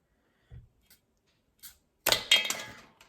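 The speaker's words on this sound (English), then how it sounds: "I'm going to cut them to size the width of the piece of cardboard" Paper straws being cut to size with scissors, a few faint isolated snips followed by a louder crisp crunching cut, close up and without talk.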